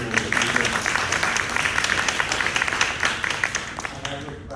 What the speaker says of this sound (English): all of you deserve a huge round of applause